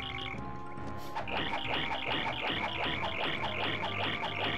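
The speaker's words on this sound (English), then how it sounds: "I guess that is the sound of crickets" A dense, rhythmic chorus of synthetic chirps pulses steadily, like crickets in the Paper Mario: The Thousand-Year Door soundscape, with no talking.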